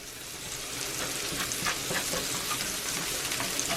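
Flour hits melted unsalted butter in a cast iron pan, a steady dense sizzle and crackle that holds evenly throughout.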